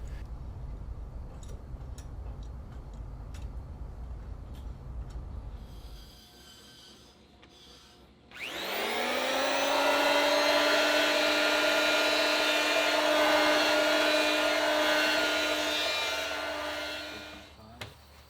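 Modified circular saw cutting a bevel along a wooden boat plank against an aluminum guide: low rumble, then the blade spins up into a loud, steady whine that holds for about ten seconds before winding down.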